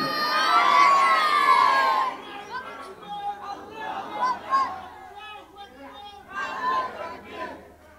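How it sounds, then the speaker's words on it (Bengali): A large religious gathering at a sermon erupts in a loud collective takbir chant, many voices shouting together for about two seconds, then the roar breaks into scattered calls, chatter and cheering that rise and fall through the rest. "সাই জোরসোর একবার একটা তাকবীর দেন তো, আল্লাহকে শোনাইয়া নারাই তাকবীর দেন।"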